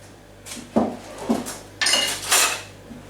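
Cinnamon and granulated sugar being mixed for a gluten free apple pie: a few sharp clinks and scrapes of a spoon against a bowl, some louder bursts of rattling, close and alone with no talk.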